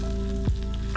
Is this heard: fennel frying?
yes